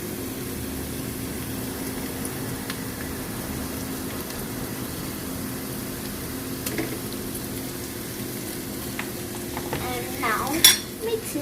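Ginger garlic paste being stirred and fried in a pan for chicken biryani, a steady low sizzle under soft spoon scrapes, with a few louder clinks of utensil against the pot near the end.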